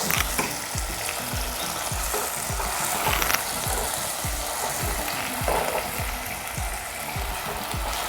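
Onion and tomato being sautéed in a pan for green chicken, with a loud continuous sizzle and regular scraping stirs of a spoon throughout.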